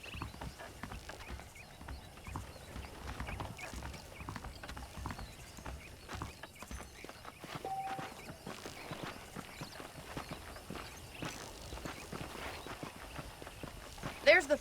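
Horse hooves clip-clopping steadily in the Red Dead Redemption video game as a rider trots along, rhythmic and moderately close, heard under ongoing spoken dialogue with an occasional whinny-like accent near the end.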